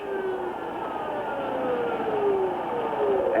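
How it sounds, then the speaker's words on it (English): Ambulance sirens wailing after a tornado at night, a sustained rising and falling siren tone heard at moderate distance over a continuous background rumble, with no voices. "Ambulances."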